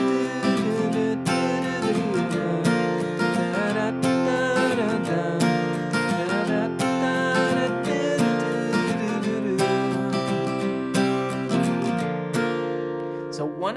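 Acoustic guitar strumming verse chords, a steady rhythmic pattern of full chords with bright string attacks, close and continuous with no talking.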